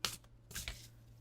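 Tarot cards are shuffled close up, two quick riffling bursts separated by a short pause, crisp and papery, with no talk.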